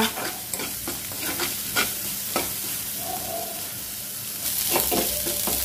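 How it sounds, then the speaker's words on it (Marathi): Green masala paste of green chilli, garlic, cumin, mustard seed and coriander sautéing in a pan, with steady sizzling and repeated scraping stir strokes throughout; no talking. "बघा आपलं वाटण चांगलं परतलंय"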